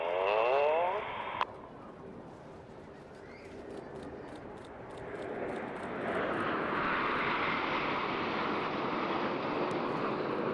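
An aerobatic team's jets hold the Apollo formation in a bank at an airshow on the coast, a faint, steady engine roar that starts soft and swells in the second half like distant surf.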